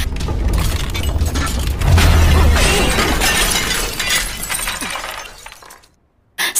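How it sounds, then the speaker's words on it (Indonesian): A glass table in a film scene cracks and shatters in a loud, sustained crash of breaking glass with a deep thud partway through, fading out before a brief final burst. "Dan meja kaca pun retak dan juga hancur."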